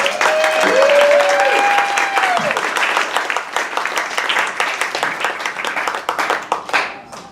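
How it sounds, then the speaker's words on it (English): Loud, sustained clapping from an outdoor festival audience welcoming a performer to the Green Show stage, with a few whistles near the start, gradually thinning out. "Let's give him a big warm round of applause."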